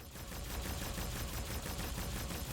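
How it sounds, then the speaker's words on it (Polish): Rapid gunfire crackles continuously, dense bursts like automatic weapons in a game, steady and loud throughout with no voices. "Strzały."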